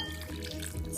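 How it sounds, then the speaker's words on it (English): Water pouring into a container for making a three-layer gelatin dessert, a steady close splashing and trickling flow that runs continuously for about a second. "We're going to add a cup of water"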